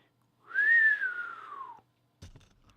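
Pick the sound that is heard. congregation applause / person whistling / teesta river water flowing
person whistling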